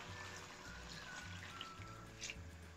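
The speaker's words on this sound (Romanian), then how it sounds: "Punem un litru de apă." A liter of water trickles into a pot of green beans, a soft, faint, steady pour close by in a quiet kitchen.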